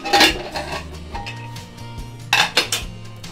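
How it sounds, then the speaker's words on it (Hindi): A metal pressure cooker lid clanks and scrapes open in a home kitchen, with a few sharp clinks at the start and a louder rattle of metal near the end. "अब कुकर को गैस निकल गया है, अब इसको मैं खोल के देख लेती हूँ।"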